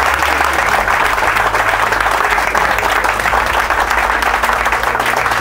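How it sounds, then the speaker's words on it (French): A room of drivers at a gathering bursts into steady, loud applause, a dense continuous clapping that holds at the same level for several seconds with no talk over it. "Donc est-ce que vous pouvez applaudir pour vous?"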